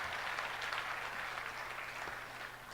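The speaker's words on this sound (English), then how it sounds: "give a big round of applause" Applause from a large audience at the opening of the Bangladesh Business Summit 2025, a dense, steady wash of clapping that holds at an even level for the whole stretch.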